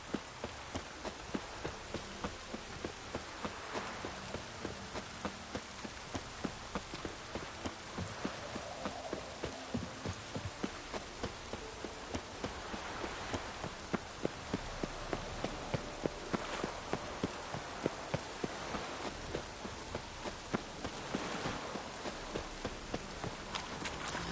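Steady rain falls in the game The Witcher 3, a dense continuous hiss, mixed with a regular rhythmic thudding like hoofbeats or running steps throughout, no talking.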